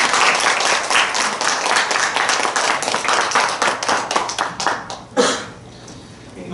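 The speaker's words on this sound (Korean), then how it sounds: "우리 하나님께 우리 감사의 박수 올려드릴까요?" Church congregation applauding together, dense steady clapping from many hands that fills the room and then tapers off into quiet.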